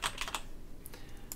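Clicky keystrokes on a QWERTY computer keyboard, a quick burst of four taps, a pause, then a few more presses, close and fairly quiet.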